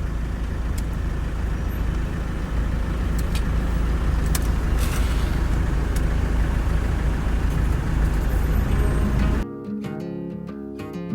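A camper van drives through a big city, its steady engine and road rumble mixing with surrounding traffic. The noise stays loud and continuous until music takes over near the end.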